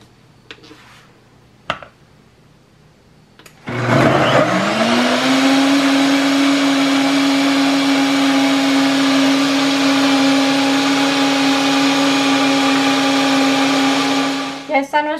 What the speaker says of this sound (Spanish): Vamos a tapar la licuadora.